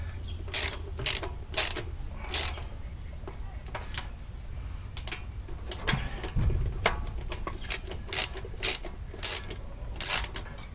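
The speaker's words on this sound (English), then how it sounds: "I don't think I can get to all these with a socket. Let's see if we can at least get to that one, get her snugged." Socket wrench ratcheting to snug bolts on a 1968 Dodge Charger engine, several bursts of quick sharp clicking close by, separated by pauses with faint handling noise.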